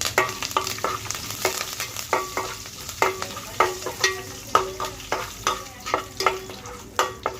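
Curry leaves fry in hot oil with the tempering spices for a fenugreek-leaf and tomato chutney. A soft sizzle runs beneath rhythmic scraping strokes of stirring, repeating roughly every half second.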